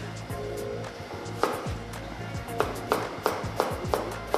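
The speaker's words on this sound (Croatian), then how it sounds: "I sjećemo na trakice, odnosno na žilije." A knife slices an onion into strips on a cutting board, giving a steady run of crisp close chops over a low kitchen hum, with a few quiet voices in the background.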